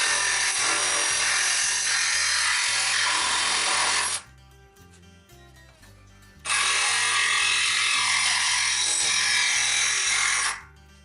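A power tool trims uneven metal edges from a boat trailer walking platform in two long loud bursts of harsh, steady cutting noise with a low rhythmic hum beneath, separated by a short quieter pause, with no talking.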